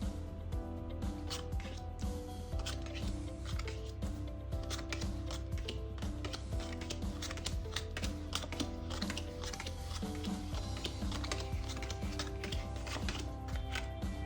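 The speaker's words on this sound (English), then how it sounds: "Starting here, we deal 1 card at a time to each pile until all the cards have been distributed." Playing cards dealt one at a time into four piles for a card trick, heard as a steady run of quick, close, crisp flicks and taps that continues without pause for the whole stretch.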